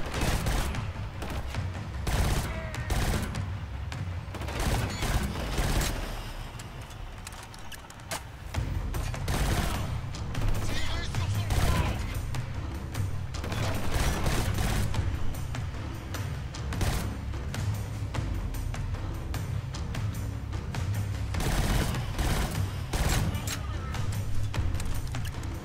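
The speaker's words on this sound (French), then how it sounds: "Les balles partent extrêmement vite" Rapid gunfire from the first-person shooter Killzone Shadow Fall: dense, loud volleys of shots with booming impacts run nearly continuously, briefly easing around the middle before resuming at full intensity.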